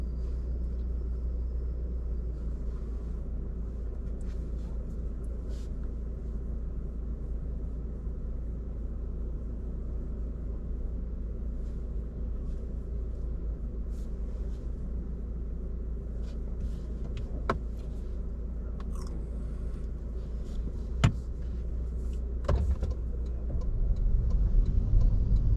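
Steady low engine and road rumble inside a car moving through heavy traffic around Patrick Street and the Grand Parade in Cork, with a few faint sharp clicks and knocks near the end and no talking.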